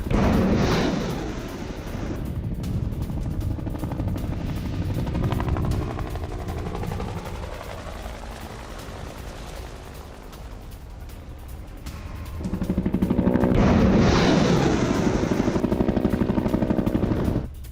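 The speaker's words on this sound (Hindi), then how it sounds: "खार्किव में यूक्रेनी हेलीकॉप्टर्स ने मिसाइलें बरसाई हैं।" Two Ukrainian Mi-8 helicopters fire unguided missiles at a Russian weapons depot near Kharkiv, a loud continuous roar of rotor noise and rapid launch blasts that swells again in a second intense burst toward the end.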